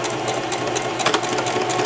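A sewing machine back-stitches fabric for a multipurpose headband, a steady close whirring hum of rapid stitching that runs continuously with a few brief louder bursts.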